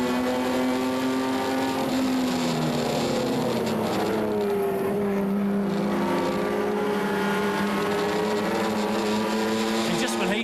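Race cars starting at Mount Panorama, Bathurst, in a 2008 HQRA National Challenge race, with loud overlapping engine drones rising and falling in pitch as the field gets away. A commentator talks over them.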